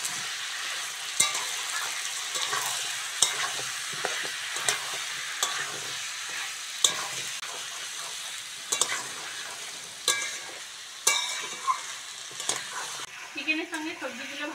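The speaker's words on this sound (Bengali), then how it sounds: "সবজিগুলো চিকেনের সঙ্গে ভালো করে কষে নেব।" Vegetables and chicken stir-fry in a pan with a soft sizzle, punctuated by repeated sharp scrapes and knocks of a spatula at irregular intervals. A brief voice comes in at the end.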